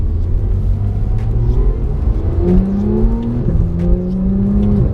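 A Porsche 911 GT3 pulling away in manual mode, its engine note rising in a steady rumble as it accelerates through gear changes, close and loud from inside the cabin.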